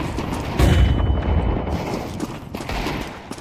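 A flashbang grenade thrown in the Counter-Strike 2 video game, a loud burst of crackling, booming game noise with a sharp onset and a second hit near the end, no talk heard.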